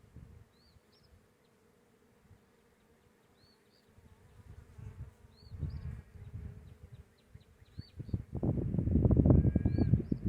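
Honey bees buzz steadily around an opened beehive, a close, continuous drone that swells louder toward the end, with occasional high chirps and handling sounds.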